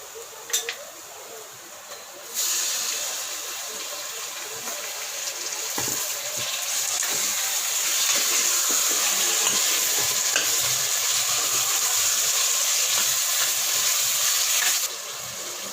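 Loud continuous sizzling of mutton sautéing in a hot pan for rogan josh, a steady hiss that swells after a short quieter start and fades abruptly at the end, with occasional stirring clatter.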